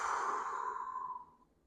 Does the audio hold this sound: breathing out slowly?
yes